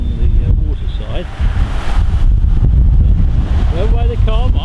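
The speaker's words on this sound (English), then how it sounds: "It's still proving very difficult taking a picture against this incredibly strong wind" Strong gusting wind buffets the microphone by a waterside street in Derry, a steady loud roar throughout with faint voices mixed underneath.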